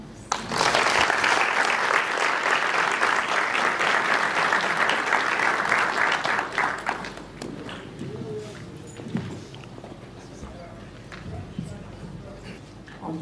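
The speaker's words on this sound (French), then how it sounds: "Veuillez applaudir monsieur Ibrahim Bakouossa" Audience applause at a Devfest developer event, a dense sustained clapping from a crowd lasting about seven seconds before dying away into a quieter room with scattered sounds.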